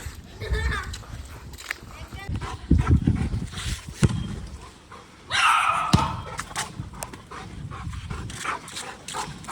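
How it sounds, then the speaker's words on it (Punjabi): A dog barks several times in irregular bursts amid thumps and nearby talking. "ਤੂੰ ਭੌਂਕੀ ਜਾ ਉੱਥੇ"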